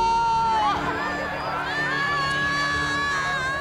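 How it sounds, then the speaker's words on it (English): A crowd at a graduation day event cheers and shouts with a continuous roar of voices, some high whistles or yells rising above the sustained noise. "give yourselves a big round of applause"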